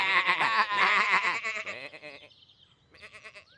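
Cartoon sheep bleat on a farm, a few loud, wavering baa calls close up in the first half, fading to a quieter bleat near the end.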